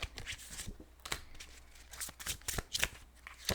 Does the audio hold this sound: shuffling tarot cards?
yes